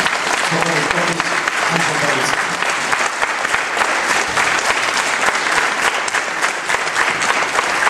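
Sustained, loud audience applause fills a choir's twentieth-anniversary concert, dense and steady throughout, with a few voices and cheers mixed in near the start.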